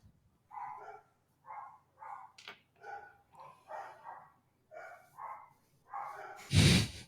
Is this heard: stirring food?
no